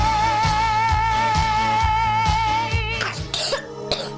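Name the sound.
child coughing in a cough medicine advertisement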